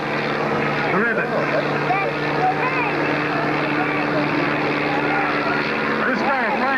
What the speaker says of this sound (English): This guy is flying his airplane